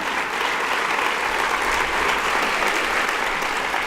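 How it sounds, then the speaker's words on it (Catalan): An audience at a book club event bursts into strong, dense applause, a steady wash of clapping that holds evenly throughout without talk. "per aquí demanem un fort aplaudiment"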